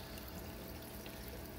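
Water pouring out of an aquarium filter outlet into a fish tank, a steady soft splashing trickle with continuous low bubbling, faint and unbroken.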